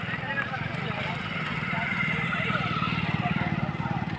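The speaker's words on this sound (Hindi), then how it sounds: "मोटरसाइकिल वाले भाई आ रहे हैं यहाँ पे" Motorcycles idle and putter at a busy riverside bathing ghat on the Ganga at Garh Ganga, a steady mid-distance engine rumble beneath someone talking over crowd noise.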